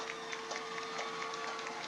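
A 1987 Brearley vs Johnson football game crowd roars in a steady, dense wash of cheering and shouting, with a sustained tone running underneath and no single voice standing out.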